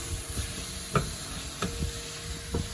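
Shrimp sizzle steadily in a hot pan, a continuous frying hiss broken by a few soft scrapes and stirs, close and clear with no talking.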